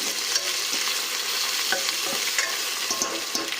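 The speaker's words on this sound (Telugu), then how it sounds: "ఇప్పుడు దీంట్లో అల్లం వెల్లుల్లి పేస్ట్ పేస్ట్ పచ్చివాసన పోయే వరకు వేయించుకోవాలి" Ginger garlic paste fries in a pan with a loud, dense crackle and sputter, broken by intermittent scraping strokes of stirring, all close up.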